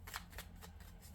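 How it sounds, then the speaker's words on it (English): A deck of nature-themed oracle cards is shuffled by hand in a quiet room, a soft close riffle of several quick papery flutters with no talk. "I will give it one more shuffle."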